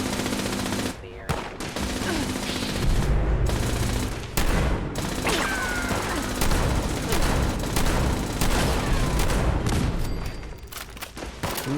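Turret gunfire in the video game Fallout 76, sustained loud machine-gun bursts with brief pauses and a few booms, continuing throughout.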